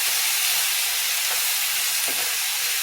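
Chopped large Italian onions sizzle steadily in a skillet for a vegan sausage, potato and pepper dinner, a continuous close hiss with a couple of faint scrapes as they are stirred.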